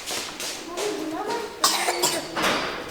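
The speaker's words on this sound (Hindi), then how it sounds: "खांसी" A person coughs repeatedly at close range in short, harsh bursts, with a rough breathy quality and no clear talking between the coughs.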